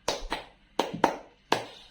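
Hands clap in a counting clap game: five crisp, separate claps, first a quick pair, then another pair, then a single clap, each ringing briefly in a quiet room.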